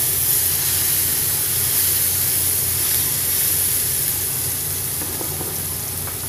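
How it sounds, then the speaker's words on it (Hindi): Ingredients for urad dal sautéing in a pan until golden brown, with a loud, continuous sizzle and hiss close by that eases slightly toward the end, with no talking. "इसको हम गोल्डन ब्राउन होने तक सौते करेंगे।"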